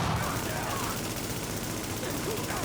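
Rapid gunfire bursts in a first-person shooter video game, continuous and dense, with a voice faintly present beneath the shots.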